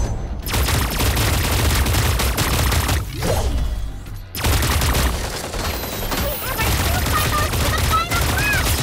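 Heavy video game gunfire in loud, close, continuous bursts with booming impacts, broken by short pauses, while voices and chirpy effect sounds come through underneath.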